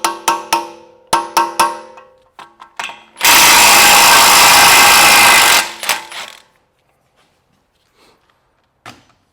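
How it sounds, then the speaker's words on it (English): Removing the axle nut on a Honda Element: short metallic clanks and knocks from a socket and wrench, then a loud sustained burst of an impact or power tool lasting a few seconds, followed by scattered faint taps. "So now we're gonna be removing the axle nut."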